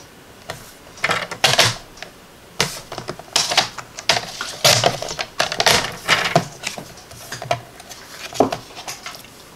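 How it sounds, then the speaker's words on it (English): Card stock being cut down to size with a paper trimmer for a fold card: a series of irregular crisp clicks, slides and snapping cuts, close and fairly loud, with brief pauses between strokes. "And then we're going to cut them down to 5 1/4."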